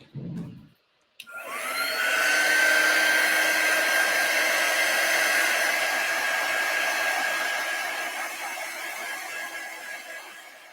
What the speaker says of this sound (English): I'm going to use my heat tool to dry mine